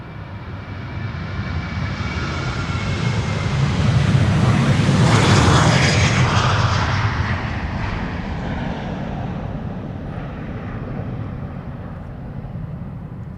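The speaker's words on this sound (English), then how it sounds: "This is KLM flight 1955 to Athens, a 737-800." A KLM Boeing 737-800 jet airliner roars past loudly, its broadband engine noise swelling to a peak mid-pass and then easing into a steady, fading rumble at Amsterdam Schiphol Airport.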